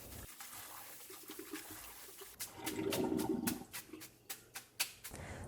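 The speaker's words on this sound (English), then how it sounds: "Wash the noodles in the cold running water many times to remove starch." Cooked noodles being washed under cold running tap water, rubbed together by hand, with a steady splashing gush in the middle and intermittent wet squelches and clicks toward the end, close and moderately loud.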